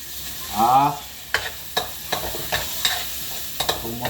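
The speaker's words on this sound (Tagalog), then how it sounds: "Gisahin lang natin hanggang mapagod." Onions and pepper sauté in a pan for stingray adobo, a low sizzle broken by a series of sharp spatula scrapes and taps, with a brief vocal sound near the start.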